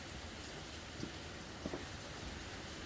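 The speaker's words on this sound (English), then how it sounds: "Damn, dude, that's hail." Hail falling outside, a dense, steady hiss of pellets striking surfaces with a few louder taps standing out, heard from indoors at moderate distance with no voices.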